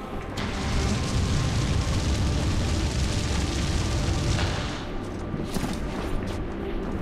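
Fiery flare-up explosions burst in the Glitterdelve mines of the video game Dungeon Siege 3, a loud, sustained roaring rumble that holds steady for several seconds and then drops to a lower crackling tail.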